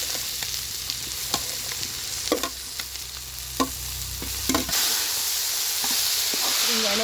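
Raw jackfruit pieces and onion frying in oil in a pan, a sizzle with sharp intermittent spatula clicks and scrapes, then a louder, steadier hiss in the last few seconds, close and without speech.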